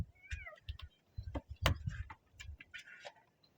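A cat meows repeatedly at a door, several short close calls with brief pauses between them, plus faint ticking and light taps, with no talking.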